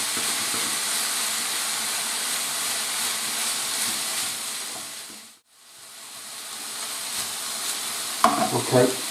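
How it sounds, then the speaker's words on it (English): Beef mince browns in a pan for Bolognese, giving a loud, continuous frying sizzle that dips briefly mid-way before resuming, followed by a few clattering stirs of a spoon near the end. "I'm going to mix all that in now"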